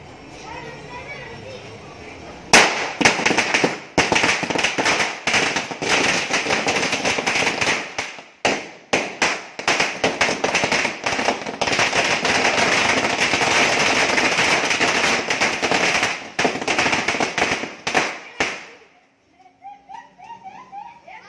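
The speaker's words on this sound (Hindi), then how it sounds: "दिवाली की पूजा हो गई है और अब जला रहे हैं पटाखे।" Diwali firecrackers burst in a dense, continuous crackling barrage of sharp pops and bangs for most of the stretch, loud and close, with children's voices and talk mixed in before it dies away.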